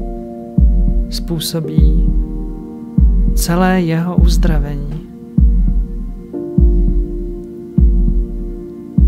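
A slow, deep heartbeat pulses steadily under a soft droning hum, each thump evenly spaced through a calm meditation, with a voice speaking gently over it partway through.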